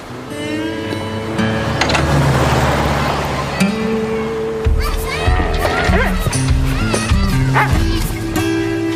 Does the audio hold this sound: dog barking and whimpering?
yes